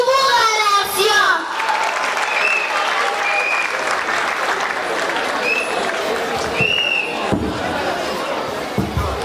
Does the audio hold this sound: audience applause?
yes